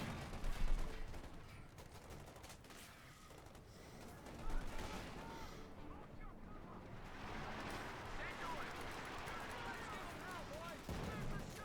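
Company of Heroes 2 battle gunfire crackles faintly in the background, with dense, low-level bursts of small-arms fire running throughout under a steady mix of game sound and voices.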